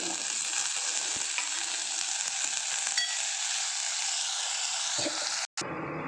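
Palak spinach sautéing in a hot pan, a steady close sizzle running throughout with faint stirring scrapes, briefly cutting out near the end.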